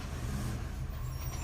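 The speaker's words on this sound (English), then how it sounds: "there's a trash man on this side of the street. Oh shoot, he hauling ass. Did you hear him revving his motor?" A garbage truck's engine revs loudly out on a street, a steady heavy rumble running throughout without a break.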